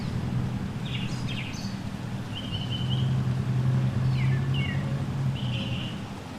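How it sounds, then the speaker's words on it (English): Scattered bird chirps and short whistled calls ring out over a steady low outdoor rumble, like distant traffic or wind. "Can you hear the birds?"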